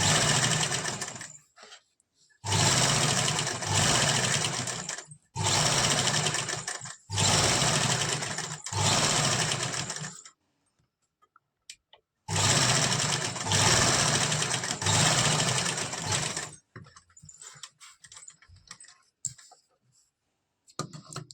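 Sewing machine stitching fabric for a frock or kameez button design, running in several loud bursts of a few seconds each with short pauses between, then light handling clicks at the end.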